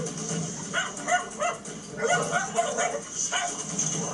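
An aggressive dog, with a Rottweiler or Doberman named, barks and yips in short bursts inside a house. A person talks over the barking and room noise.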